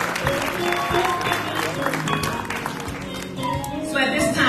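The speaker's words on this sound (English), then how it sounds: "let's give those Teachers of the Year a round" Audience applause for the Teachers of the Year at a county education summit, a steady wash of clapping filling the room for several seconds, with voices mixed in underneath.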